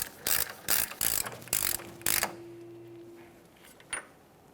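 Socket ratchet turned by hand to tighten the front axle nut on a 2014-2019 Toyota Corolla during a wheel bearing and hub replacement, giving five quick bursts of close clicking followed by quieter metallic handling.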